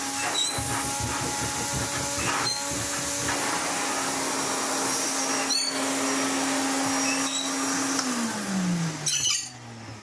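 A 1980s Hoover Constellation 867a vacuum cleaner runs steadily with a loud, even motor drone and whine, with occasional knocks and clatter, then its pitch falls off as it winds down near the end.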